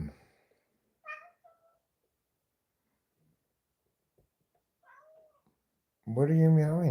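A house cat gives two faint, short meows a few seconds apart in a quiet room, and then a person starts talking.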